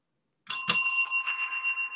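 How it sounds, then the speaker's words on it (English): A tabletop desk bell rung twice in quick succession on a podcast, two bright metallic dings close together whose clear ringing tone lingers and fades. "that was the double bell"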